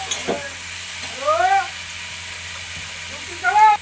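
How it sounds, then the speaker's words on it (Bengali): Onion, potato and tomato frying together in oil while being stirred, a soft constant sizzle under scraping strokes, with a cat meowing twice nearby. "একসাথে পেঁয়াজ আলু টমেটম এবার আমি ভাজবো"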